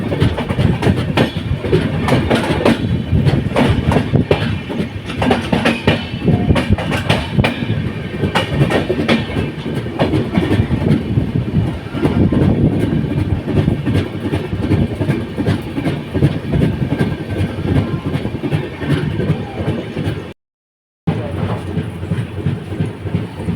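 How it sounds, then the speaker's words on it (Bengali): The Padatik Express passenger train runs at speed, with a loud, continuous rumble and rapid clickety-clack of wheels over rail joints heard from inside, briefly cutting out near the end. "জাস্ট দেখো কত বড় ট্রেনটা"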